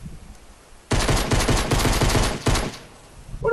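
Rapid bursts of automatic gunfire in Fortnite ring out loud and close for about a second and a half, then a short pause, and a final quick burst follows.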